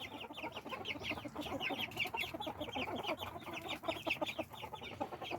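A flock of chickens clucking continuously, with many overlapping soft calls close by, steady and busy throughout.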